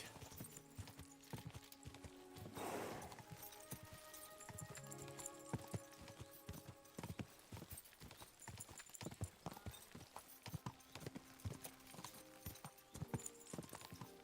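Horse hooves clip-clopping in a steady, brisk rhythm in the video game Kingdom Come: Deliverance 2, fairly faint, with a short burst of noise near the start and light background ambience.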